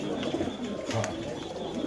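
A caged pigeon at a pigeon sale in Meradia, Dhaka gives a brief low coo amid soft background noise, close by and fairly quiet.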